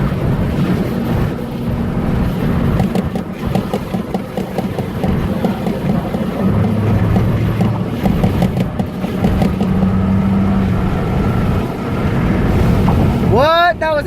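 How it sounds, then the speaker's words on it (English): Strong wind buffets a vehicle crossing the bridge by the Hoover Dam, producing a constant heavy rumble and roar over engine and road noise, with a voice exclaiming and a brief squealing burst at the very end. "Wow, it's windy as hell."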